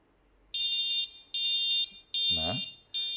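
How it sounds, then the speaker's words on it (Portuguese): Four evenly spaced electronic beeps from a UV Force Power LED stamp processor signalling the end of exposure, clear and close, with a short spoken word overlapping the third beep. "ele vai dar o bip."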